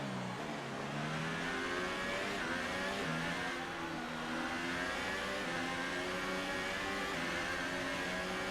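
Formula 1 race car engines in the F1 2018 game at the Australia race, a steady high-pitched whine of several engines rising and shifting in pitch as cars run close together, continuous and loud.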